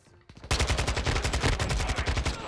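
M4 rifle fire in Modern Warfare II, a rapid automatic burst of evenly spaced shots, loud and close, starting after a few faint shots and running steadily to the end.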